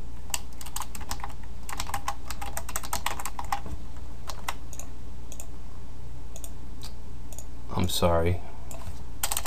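Steady, rapid clatter of typing on a computer keyboard while writing JavaScript code, close and continuous, with a short burst of speech near the end.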